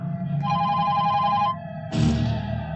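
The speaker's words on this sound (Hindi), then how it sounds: "अरे उठा, फोन उठा," A telephone rings in a Hindi action film scene from Ek Jwalamukhi: a loud, close electronic trill sounds for about a second, pauses briefly, then rings again, with no talking over it.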